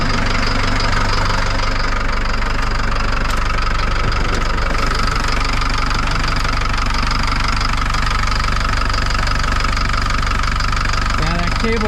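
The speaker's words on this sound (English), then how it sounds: "It started, I got it picked up, but the throttle will not rev up" A Cat loader's diesel engine idles loud and close, a steady low rumble with a knocking rattle that never rises in pitch; the throttle cable is frozen so it stays at idle.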